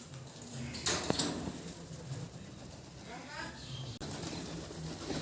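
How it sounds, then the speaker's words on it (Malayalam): A flock of pigeons pecking at rice in a house courtyard makes soft coos and occasional wing flutters, with light clattering and steady low background noise. "നിറച്ചും പ്രാവാണ് കണ്ടോ."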